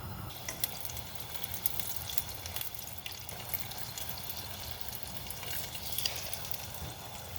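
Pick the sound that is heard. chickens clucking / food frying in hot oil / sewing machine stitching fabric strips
food frying in hot oil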